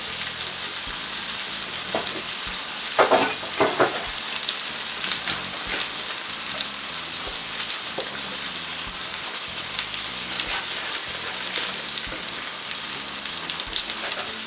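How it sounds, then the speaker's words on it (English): Broccoli cooks in a frying pan on a stovetop with a constant dense sizzle and spatter throughout, close and fairly loud, with a few brief stirring clatters near the start. "So we got some broccoli are cooking now."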